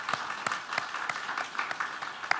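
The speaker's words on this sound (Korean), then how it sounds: "우리 박수로 환영하겠습니다." A small church congregation claps briefly in welcome, the individual claps uneven and clearly separated, moderately close, with no voices.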